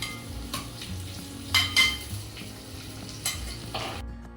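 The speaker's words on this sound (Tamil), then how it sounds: "நல்லா சாட்டே பண்ணதுக்கப்புறம் பெரிய வெங்காயம் அதையும் நல்லா சாட்டே பண்ணிக்கலாம்" Onions and whole spices sautéing for Chettinad chicken biryani, a low continuous sizzle with a few louder spatula scrapes and light clinks of the pan, close by.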